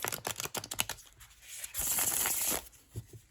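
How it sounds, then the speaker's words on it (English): A tarot card deck is riffle-shuffled by hand up close, giving a rapid flurry of crisp paper flicks followed by a longer soft riffling burst, then a few final taps, with no talking. "So this deck does shuffle really nicely"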